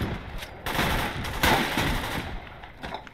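Machine gun fire in the World War II game Gates of Hell Ostfront, with dense bursts of rapid shots in a loud, continuous stretch that tails off toward the end.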